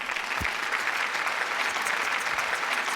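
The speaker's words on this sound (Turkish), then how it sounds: "alkış efekti" A steady wash of crowd applause sound effect, dense clapping at an even level throughout, with no voices standing out, played during PUBG Mobile gameplay.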